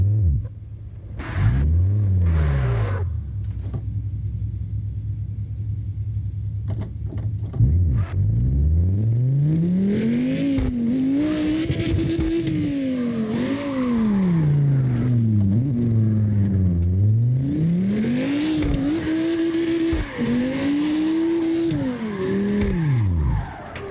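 Lamborghini engine in the drift racing game CarX Drift Racing Online, loud and continuous, rising and falling in repeated revving sweeps with tire squeal and skidding as the car drifts; no talking.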